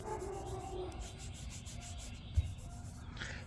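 A hand rubs slowly across rough, damaged paint on a truck hood, giving a soft, close, dry scraping hiss in a few strokes with a small knock near the end.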